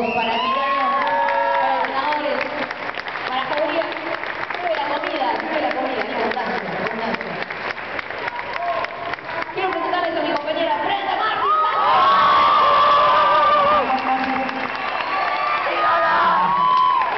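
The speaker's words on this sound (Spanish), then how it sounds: "Un aplauso para todos, para ti." A concert audience at El Teatro de Flores in Buenos Aires cheers, whoops and applauds for a rock band, a dense, loud roar of shouting voices and clapping that holds throughout and rises higher near the end.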